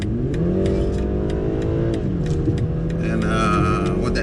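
A BMW 330i G20 sedan accelerates hard in a middle gear, its engine note climbing steadily, pausing at a shift and rising again, heard from inside the cabin with faint ticking in the background.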